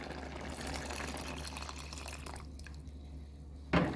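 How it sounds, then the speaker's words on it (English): Water pours into a pot of Jamaican hominy corn porridge, a steady splashing fill that stops abruptly, followed by a sharp knock of the pot or lid. "we're going to add a cup of water now"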